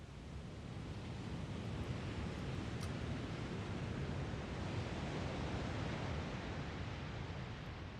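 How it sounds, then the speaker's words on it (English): Steady ocean wind rushes in a dense, even, broadband roar with its highs and lows trimmed by EQ, a sound-redesign layer for Pirates of the Caribbean: At World's End, continuous with no other sounds. "Very standard wind sound here, some slight EQing going on just to cut out some of the highs and lows here. Some kind of ocean wind."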